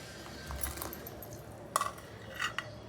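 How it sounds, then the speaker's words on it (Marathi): Sago pearls tip into boiling water in a pot, giving a few faint soft clinks and a brief scattered patter against quiet simmering, with no talk. "चला, पाणी उकळत आहे. आता ह्याच्यात आपण साबुदाणा घालूया."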